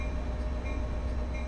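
Diesel commuter locomotive, an F40PH-2CAT in Train Sim World 2020, rolls under gentle braking, giving a steady low rumble and rail noise with a constant hum, no voices over it.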